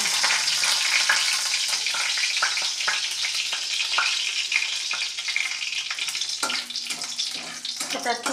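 Dry red chilli and bay leaf fry in hot oil, giving a loud, dense sizzle and crackle with occasional stirring sounds, close and continuous.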